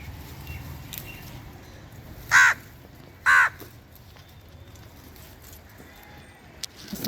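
Two loud, harsh crow caws about a second apart cut through a quiet outdoor background on a terrace garden.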